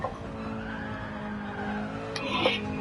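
Car tires skidding and squealing as the car slides in third gear in a racing game, a steady high-pitched squeal over engine hum, faint and continuous with a brief harsh burst near the end, speech alongside.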